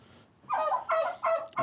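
A goose on an Edwardian-era farm calls out in a short burst of honking, loud and close, several harsh cries following one another quickly with no talk.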